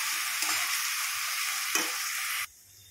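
Chopped onions for chicken biryani fry in a pan with a loud, steady hiss and crackle, with a couple of brief stirring scrapes, before the sizzle suddenly drops away to quiet.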